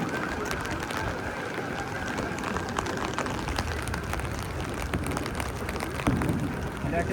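Heavy rain falls outdoors on a crowded fireworks night in the USA, a steady wash of drops on surfaces, with faint bird cooing and a short louder patch near the end.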